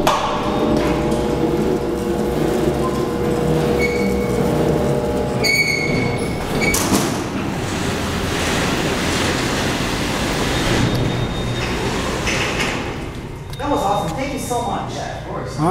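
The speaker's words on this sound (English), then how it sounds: "here's the doors opening." Heavy Dover hydraulic freight elevator doors opening, a loud sustained mechanical rumble with clanking and tonal whines, running throughout with faint voices in the background.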